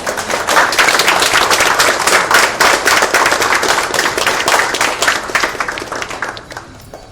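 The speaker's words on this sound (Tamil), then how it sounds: "எல்லாரும் கரகோஷத்துடன்" Loud, dense applause and clapping from a gathered crowd at a hotel opening ceremony, sustained for several seconds before tapering off near the end.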